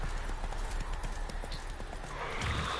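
A horse gallops in The Witcher 3, its hooves striking a fast, even clip-clop close by, with a short whinny rising toward the end.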